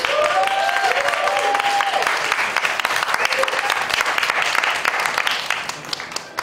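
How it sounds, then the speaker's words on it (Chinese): An audience at a 2018 press conference applauds, a dense, continuous round of clapping that stays strong for several seconds and then gradually thins, with a few faint voices underneath. "大家给他好好鼓掌。"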